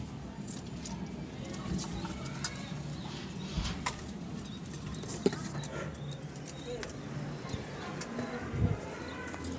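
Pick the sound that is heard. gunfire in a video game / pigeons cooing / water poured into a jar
pigeons cooing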